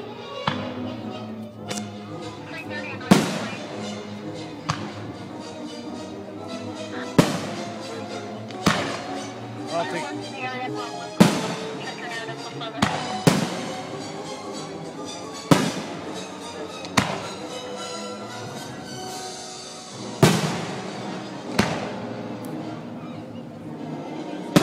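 Fourth of July fireworks exploding in a 2012 celebration, with repeated sharp booms and crackling bursts spread irregularly throughout, some close and loud, over a steady bed of music and crowd noise with people talking.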